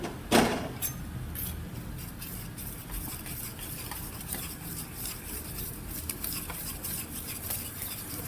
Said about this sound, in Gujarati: બરાબર મિક્સ કરી અને દૂધમાં એડ કરી દેવાનું